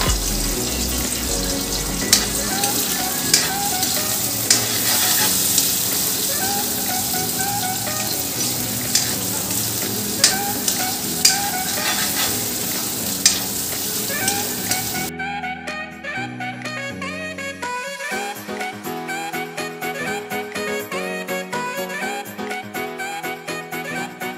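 Onions sizzle in hot oil in a home kitchen with a steady frying hiss and occasional stirring clinks, then the hiss cuts away to quieter, clattering kitchen sounds.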